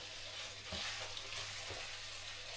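Spicy garlic butter seafood with crab sizzles steadily in a pan while being stirred, with a couple of soft scraping strokes over the continuous frying hiss.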